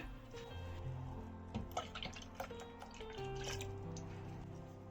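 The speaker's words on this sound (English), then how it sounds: "pour 2 cups of milk into the blender" Milk pouring steadily into a blender, a soft continuous gurgle with a few drips, faint and close, no voices.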